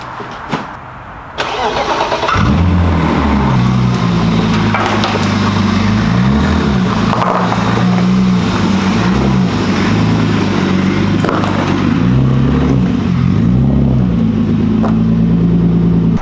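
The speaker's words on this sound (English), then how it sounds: "it does have an exhaust leak still" A 300,000-mile BMW E36 M3 with an exhaust leak starts up and settles into a loud, close idle, its rough throbbing note rising and falling slightly in a steady pulse.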